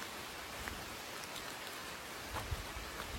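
Steady rain falls on a foggy mountain trekking trail as a soft, even hiss that holds throughout, with a few slightly heavier patters near the end and no voices.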